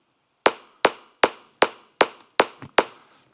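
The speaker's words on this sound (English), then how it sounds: "A transient is just like a little click" Seven sharp, bright transient clicks at an even pace, each a crisp broadband tick with a quick decay, standing alone as a layer meant to sit on top of a kick drum in music production.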